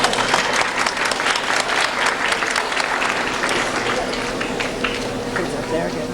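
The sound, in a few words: audience applause at awards ceremony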